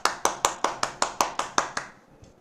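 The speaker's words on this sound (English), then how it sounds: "Let's give her a big round of applause" A short run of about nine evenly spaced, sharp hand claps at a Toastmasters chapter meeting, loud and close, ending with a faint final clap as the sound trails off.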